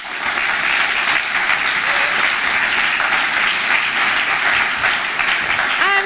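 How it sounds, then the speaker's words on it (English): A school auditorium audience gives a big round of applause to the expert panel at a student discussion event. The clapping is loud, dense and sustained, filling the hall throughout. "So now we need a big round of applause for the experts."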